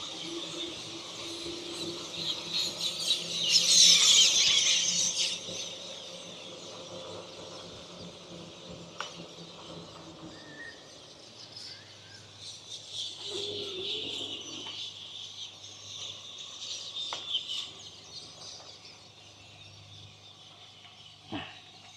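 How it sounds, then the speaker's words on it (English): A flock of birds calls outdoors, cooing and chirping at moderate distance, with one louder burst early on and scattered calls afterward over a low steady background hum. "Oh, there's all those birds again from earlier."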